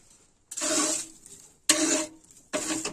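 Embers and ash knocked loose with a poker against the inner walls of a Taifun 2 pyrolysis boiler, three separate bursts of scraping, rattling metal clatter, close and fairly loud with short quiet gaps between.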